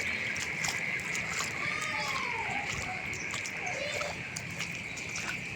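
Water splashes and sloshes continuously as someone wades through a flooded street in Johar Town, Lahore, close and steady, with people talking over the splashing.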